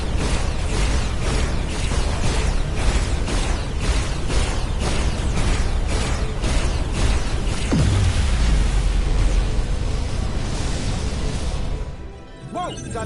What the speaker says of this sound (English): Dilithium explosion.